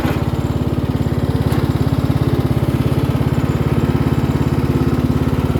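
A riding mower's engine chugs steadily and close by with an even, rapid pulsing beat that holds constant throughout.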